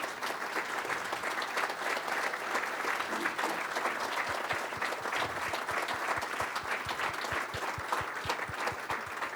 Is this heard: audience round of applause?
yes